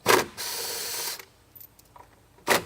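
Ratchet wrench backing out T55 bolts on a Jeep Renegade front fascia, with a short burst of clicking, a longer steady ratcheting run, then a brief final burst after a quiet gap with faint handling noises.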